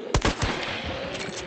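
Rifle gunshots in the video game Hunt: Showdown, two or three sharp, loud, close reports early on followed by fainter echoing impacts and a lingering tail, with no talking.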